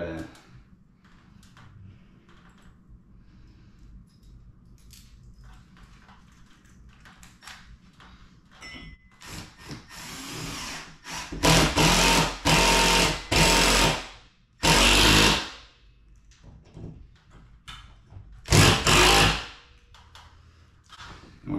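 A power driver drives bolts through a projector screen mount into ceiling studs, firing in several loud, sustained whirring bursts in the second half, with a person talking quietly earlier.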